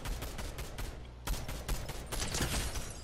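Rapid volleys of video-game gunfire crackle and rattle in dense bursts, loud and close, with automatic-weapon fire continuing almost throughout and a brief lull before more shooting.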